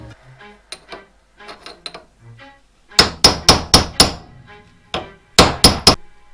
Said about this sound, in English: Then just using a hammer and chisel, just bend the nut down into the keyway in the spindle.